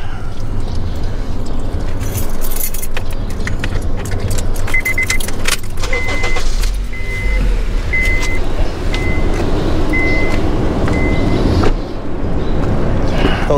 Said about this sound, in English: I'll turn the car on.